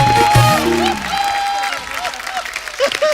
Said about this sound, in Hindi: जोरदार तालियां कपिल शर्मा के लिए।